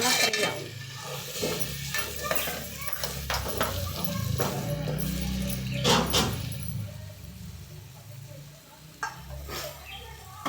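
Chicken fries in a pan with chili powder and turmeric, a low sizzle under repeated scraping and clinking stir strokes that come in irregular bursts, then ease toward the end.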